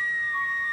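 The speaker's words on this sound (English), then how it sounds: "That was a great whistle" A clear, sustained whistle, loud and close, held as a bright steady tone with slight pitch shifts, heard alone without talking.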